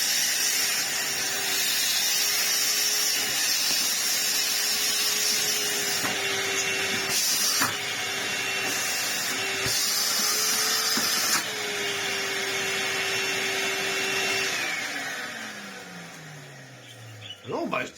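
Steady loud whine and rushing airflow from a repaired 1996 Numatic NV-370 workshop vacuum running close by, with a faint tonal hum that wavers, then the motor winds down with a falling pitch near the end; a voice talks over it.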